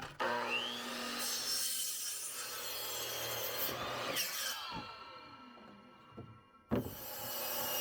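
A saw cuts through an old, dried wooden board for a picnic table restoration, making close rasping strokes that run steadily, pause briefly, then resume.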